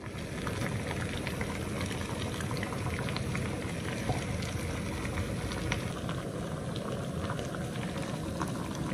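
Water is steamed for coffee, to be used on a bent eBike fender: a continuous, even bubbling hiss with dense crackle, moderately loud and unbroken throughout, with no voices.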